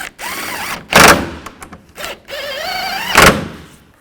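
A cordless impact tool tightens upper radiator bracket bolts on a 2011-15 Kia Sorento, several short whirring runs that rise in pitch, broken by sharp ratcheting bursts, close and loud.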